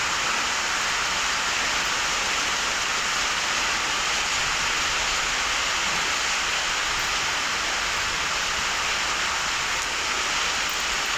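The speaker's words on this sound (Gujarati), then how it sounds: "એમના તો વરસાદ ચાલુ થઈ ગયો" Steady rain falls in a village, making an even, dense hiss that stays constant with no pauses or voices.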